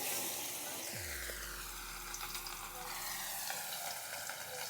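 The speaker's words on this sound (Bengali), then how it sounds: "সব কটা একসঙ্গে ভাজা যাবে না।" Fish pieces rubbed with salt and turmeric fry in hot oil, a soft, even hiss of low-level sizzling that holds steady throughout, with no talking.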